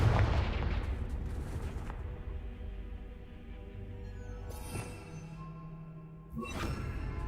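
Confringo fire spell in the game Hogwarts Legacy: a heavy blast opens with a long rumbling decay, and a second crackling burst follows near the end over a continuous game soundscape.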